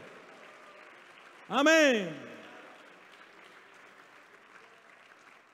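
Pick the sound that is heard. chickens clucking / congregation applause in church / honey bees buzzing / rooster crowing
congregation applause in church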